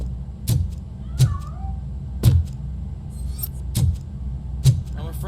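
A cat meows in the game RoboCop: Rogue City, giving a couple of short, faint calls between regular heavy thuds over a low rumbling background.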